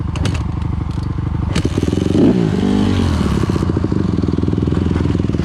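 A trail dirt bike with electric start idles in a rapid, loud, close putter. Its engine rises briefly in a rev with some clatter and scraping partway through, then settles back to a steady chug.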